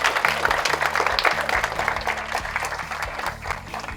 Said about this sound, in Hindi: एक बार उसके लिए जोर से ताली बजा दो.